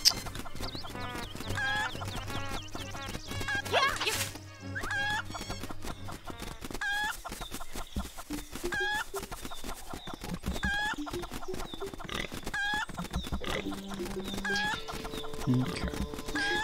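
Chickens in the Link's Awakening video game cluck and squawk in repeated short chiptune-style bursts alongside game music and sound effects, with someone talking intermittently over them.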